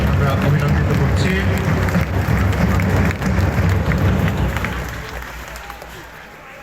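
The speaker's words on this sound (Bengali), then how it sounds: "করতালির মাধ্যমে আমরা অভিনন্দিত করছি।" An audience in a school or college hall applauds to greet the principal at a ceremony: steady, dense clapping from many hands that fades out toward the end.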